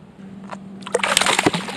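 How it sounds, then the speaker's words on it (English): A caught largemouth bass thrashes free into public lake water, giving a quick cluster of sharp splashes and sloshes after a faint lead-in, close and loud. "That fish totally splashed me, but I'm all right."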